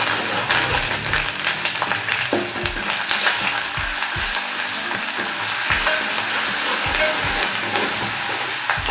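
Onion and garlic paste frying in a pan for a desi chickpea and potato curry, with a steady, close sizzle and scraping stirs throughout, no voices.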